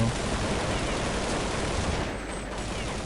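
Rapid bursts of gunfire from Counter-Strike 1.6 fill the clip as a dense, continuous rattle of shots, loud and close, easing slightly near the end.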